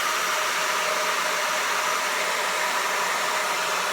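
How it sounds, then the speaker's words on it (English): Hair dryer running on its cool, low setting to dry freshly applied fiber lash mascara, a steady close whooshing hiss of airflow that holds even throughout with no talk over it. "A hair dryer, cool setting, low."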